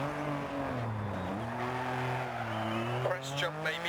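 Lancia Stratos rally car in Dirt Rally, its engine droning with rising and falling pitch as it skids and spins out, tyres scrabbling near the end, under continuous talk.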